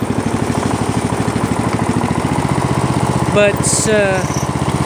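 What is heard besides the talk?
snowblower engine starting and running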